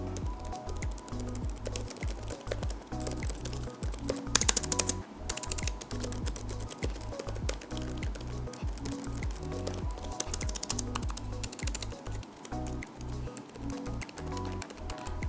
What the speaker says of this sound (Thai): เดี๋ยวจะให้ลองฟังเสียงแป้นพิมพ์ดู